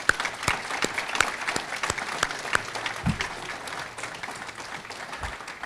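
Audience at a student recognition and networking reception applauds competition participants, a sustained burst of many hands clapping with a few sharper individual claps, fading slightly toward the end.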